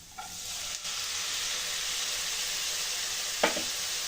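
Carrot and soaked sago pearls fry in a pan for payasam, giving a steady, close sizzle throughout, with a few brief scraping stirs near the start and another near the end.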